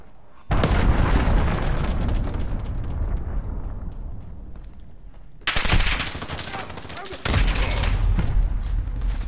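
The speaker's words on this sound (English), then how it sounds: "Enemy cruise missile, take cover!" Call of Duty Modern Warfare cruise missile strikes: dense, loud rolling blasts and rumbling explosions with sharp gunfire-like cracks, a sustained barrage followed by two more sudden heavy impacts near the end.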